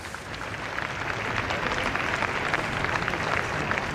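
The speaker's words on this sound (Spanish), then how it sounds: "Aplausos también para el cierre" Steady crowd applause in the street during a Holy Week procession in Zaragoza, a dense even wash of many hands clapping at a distance, continuous and moderately loud with no break.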